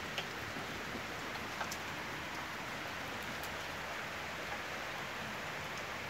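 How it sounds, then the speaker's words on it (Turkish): Heavy August rain pours steadily, a dense, even hiss of drops on surfaces with occasional louder splashes close by, with no voices. "Ağustos ayının 17'si olmasına rağmen müthiş bir yağmur yağışı var"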